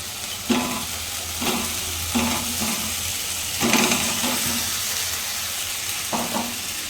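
Chopped raw mango fried and stirred in a pan, a steady sizzle broken by several scraping stirs of a spoon against the metal, close and moderately loud with no talk.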